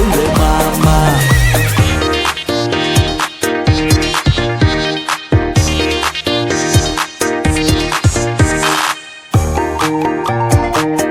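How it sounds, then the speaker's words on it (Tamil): A horse neighs and hooves clip-clop amid a loud, rhythmic song with heavy percussion at a church Vacation Bible School closing celebration. "கட குடுகன குதிரை வந்துச்சு, அதுல கோபமாக வாராரு பவுல் மாமா"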